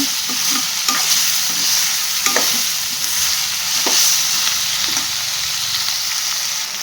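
Bitter gourd stir-frying in a pan gives a steady bright sizzle, with occasional scrapes and clinks as the spatula stirs, close and continuous with no voices.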